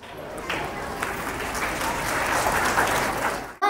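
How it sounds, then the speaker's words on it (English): A crowd in an auditorium breaks into applause after a school stage play about social media addiction, the clapping building to a full, sustained roar with some voices among it before cutting off abruptly. "Give them a big round of applause."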